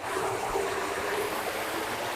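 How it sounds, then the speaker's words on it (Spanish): Water from the Huasco river rushing through an irrigation intake channel, a close, steady churning wash with no pauses and no one talking. "Entonces estas son las aguas del río Huasco"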